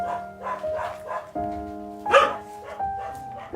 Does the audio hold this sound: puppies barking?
yes